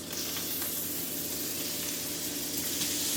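Unseasoned shrimp frying in a pan, a dense, continuous close sizzle with faint crackles and no talk.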